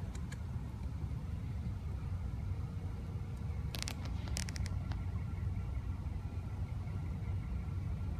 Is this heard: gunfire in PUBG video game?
no